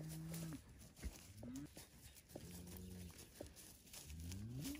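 A herd of cattle on a beef farm moo repeatedly, several long lowing calls overlapping close by, with outdoor background noise between them.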